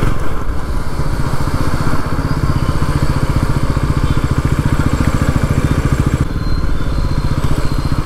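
Bajaj Pulsar NS400, a 400cc motorcycle, engine running steadily while riding, a loud, continuous throbbing drone with rapid regular pulses that holds the whole time with no talking.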